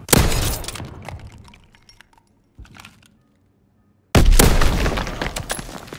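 A detonated charge explodes in a Call of Duty: WWII match, giving a loud blast that decays through scattered debris and crackle, then a second sudden heavy explosion that roars on broadband until the end.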